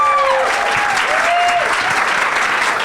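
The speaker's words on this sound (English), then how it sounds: "Can we have a huge, huge round of applause for Betsy?" A festival panel audience gives Betsy Beers a steady, dense round of applause and cheering that fills the room throughout, with a few whistles rising over the clapping.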